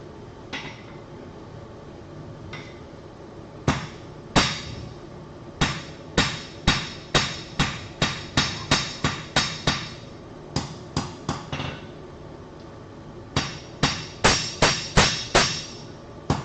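A hammer strikes metal on a cutoff hardy at a forge, sharp ringing blows in rhythmic runs of several quick strikes separated by short pauses, close and clear with no talk.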